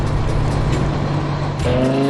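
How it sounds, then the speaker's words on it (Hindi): A purple monster truck's engine in a cartoon, a loud continuous motor rumble that shifts to a higher revving tone near the end, with no voices. "शांत वादियों में इंजन की गूंज सुनाई देती है"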